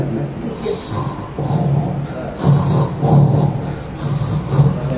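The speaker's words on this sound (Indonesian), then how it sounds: "Ini orang ngorok. Perhatiin ya orang ngorok." A person snoring in slow, rhythmic bursts, each deep rasping snore rising and fading about once a second, heard fairly close and moderately loud.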